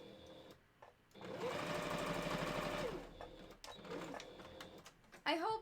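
A sewing machine stitches a Halloween candy corn fursuit prop pillow in a steady, fast whirring run of about two seconds, then shorter bursts, with quiet handling noises and a brief clatter at the end.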